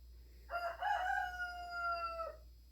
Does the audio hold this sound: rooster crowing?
yes